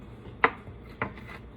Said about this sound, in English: And then I make 3 cuts on each of those pieces.